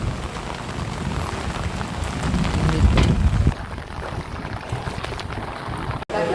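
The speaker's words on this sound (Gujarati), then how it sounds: "જોરદાર કાડકા વીજળી ચાલુ છે મિત્રો." Heavy rain pours steadily with a dense rushing patter, close by, swelling briefly midway; no distinct thunderclap stands out.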